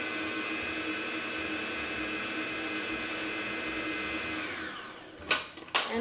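An electric mixer whirs steadily through prune cake batter, a loud continuous high-pitched motor drone that winds down near the end and gives way to a few clattering bumps.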